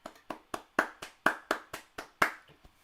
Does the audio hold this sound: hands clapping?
yes